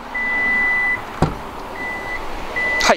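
A Toyota RAV4 2.0 Hybrid G's hands-free power liftgate, triggered by a foot under the rear emblem, gives a long electronic beep, then a thud, then two shorter beeps, and ends with a mechanical clunk outdoors.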